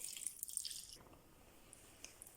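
Water pours briefly into a cooking pot of meat, pepper and bay leaves with a splashy hiss, then stops, leaving a few faint drips; quiet and close.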